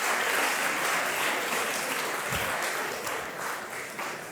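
At an award ceremony, the audience applauds medal winners with sustained, full clapping that gradually softens toward the end.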